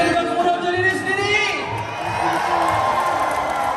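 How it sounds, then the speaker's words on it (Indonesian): A crowd at an evening dikir performance at the Esplanade cheers and whoops with rising shouts, fading slightly midway before swelling again into a loud, mixed roar of voices. "Berikan tepuk tangan."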